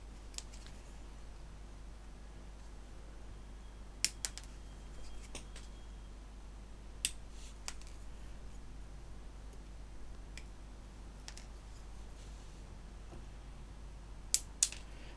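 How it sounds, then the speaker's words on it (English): Nippers snip a plastic sprue stub off an Airfix Mosquito PR XVI model part, giving a few sharp, faint clicks spaced apart against a quiet room. "I put the nipper all the way up to the part,"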